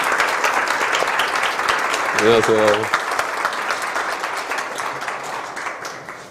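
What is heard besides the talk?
applause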